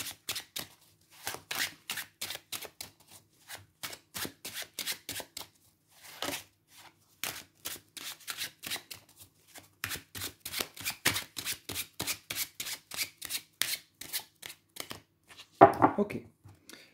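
Tarot cards shuffled by hand in a steady, rapid rhythm of crisp papery slaps and riffles, close up and fairly quiet, with brief pauses between runs and a louder knock near the end.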